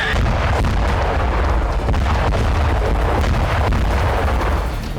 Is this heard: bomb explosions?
yes